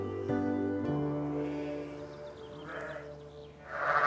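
Inside a lambing shed, a sheep gives a long, steady bleat nearby, followed by fainter, higher lamb bleats toward the end.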